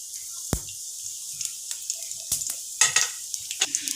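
Whole cloves, cinnamon pieces, cardamom pods and cumin seeds sizzling in hot oil, a soft steady crackle with scattered sharp pops and a few clinks of a utensil against the pan.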